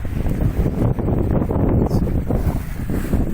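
Steady, loud northeast trade wind of about 15 to 18 knots buffets the microphone aboard a sailboat under way off St. Thomas, with a continuous low roar and gusty rumble throughout, no talking.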